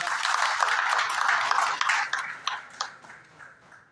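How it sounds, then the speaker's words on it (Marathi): Audience applause at a flag day fund collection event, a dense burst of clapping that gradually thins and fades out with a few scattered claps at the end. "आदरणीय संतोजी पाटील साहेब यांच्यासाठी आपण जोरदार टाळ्या वाजवूया"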